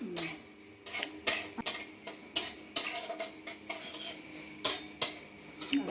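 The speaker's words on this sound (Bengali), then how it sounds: "পাঁচ ফোড়নটাও ভাজা হচ্ছে আচ্ছা লো হিটে এটাকে ভাজতে হবে" Panch phoron spices fry over low heat in a pan while a metal spoon stirs and scrapes in repeated sharp clinks, about one every half second, with a faint sizzle underneath.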